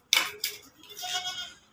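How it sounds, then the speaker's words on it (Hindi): A four-month-old Teddy goat bleats close by, two sharp short cries followed by a longer wavering bleat that fades out, with no talking over it. "मेरे पास ये टैडी बकरा है, उम्र है इसकी 4 महीने।"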